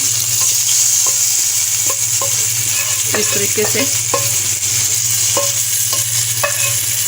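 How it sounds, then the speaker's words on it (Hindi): Steady, loud sizzling of spices in hot oil as tempering for kadhi pakora, with scattered clinks of a spoon against the pan and a brief murmured voice. "तड़का हम लगाएंगे कढ़ी को"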